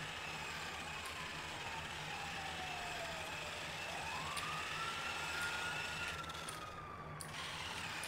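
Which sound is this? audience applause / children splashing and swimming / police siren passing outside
police siren passing outside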